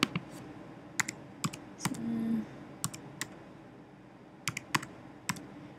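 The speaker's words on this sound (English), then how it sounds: "And go ahead and type in the code." A code is being typed on a computer keyboard while a Google Site is set up, with sharp, irregular key clicks close by, sparse and spaced out, plus one short mechanical rattle in the middle and no talking.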